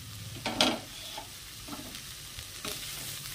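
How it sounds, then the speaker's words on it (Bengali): Pounded banana flower (mocha) frying in an uncovered pan, with a soft low sizzle and a few brief scraping stir strokes spread over a few seconds. "এবার ঢাকনা খুলে আমরা এটাকে ভালো করে ভেজে নেব"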